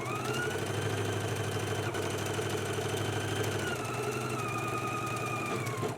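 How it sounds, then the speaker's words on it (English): A sewing machine hums steadily and close by as it stitches a jacket seam with a 5/8 inch seam allowance, a continuous motorised whir with a slight shift in pitch near the end. "let's stitch using a 5/8 inch seam allowance"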